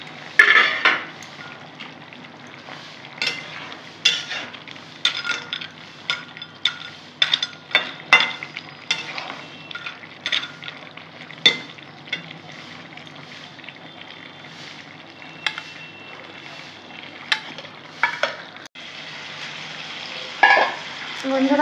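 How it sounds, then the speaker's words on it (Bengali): Fried lentil dumplings (dal bori) cook with vegetables in a pan, a close, continuous sizzle broken by frequent clattering stirs and scrapes of a utensil against the pot, with no one speaking. "এখন আমি বড়িগুলো, ডালের বড়িগুলো দিয়ে দেবো।"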